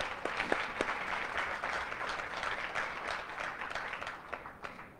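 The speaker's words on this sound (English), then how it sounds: "And how about a big round of applause?" Audience at a live guide dog and service dog class graduation ceremony clapping: a sustained round of applause with scattered individual claps standing out, moderately loud and steady for about five seconds, with no voices.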